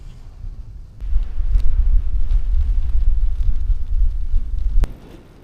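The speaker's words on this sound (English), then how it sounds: "Already have a pretty stiff headwind" A stiff headwind buffets the microphone during a long-distance bicycle ride on the Tour Divide route, a loud low rumbling roar that gusts in after a second and then fades, with no talking.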